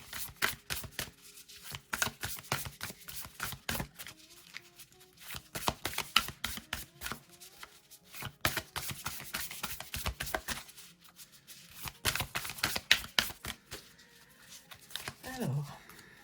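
Starseed Oracle cards being shuffled by hand, dense rapid flutters and riffling slaps in repeated bursts close to the listener, with a person speaking intermittently alongside.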